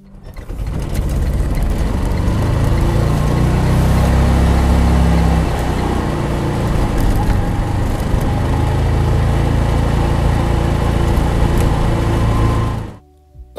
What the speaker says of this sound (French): Lorsque j'accélère, le moteur monte dans les tours, mais la vitesse tarde à arriver